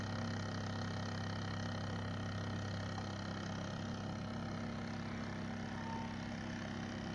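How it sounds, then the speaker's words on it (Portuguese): A homemade resonant generator motor runs steadily with a continuous low hum and mechanical whir, holding an even level throughout with no talk. "Esse motor promete"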